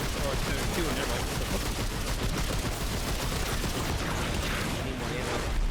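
Sustained rapid gunfire in the video game Remnant 2, a dense, loud, unbroken crackle of shots filling the whole stretch without pause.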